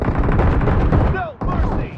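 Rapid gunfire in a PUBG Mobile deathmatch, with dense, overlapping shots pounding almost without a break, a brief dip, then more firing. The shots are loud and close.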